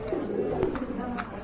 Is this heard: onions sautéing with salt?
no